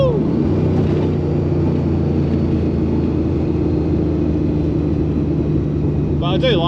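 A Holden fitted with a 355 stroker V8 idles nearby with a steady, deep, lumpy rumble that stays loud and even throughout.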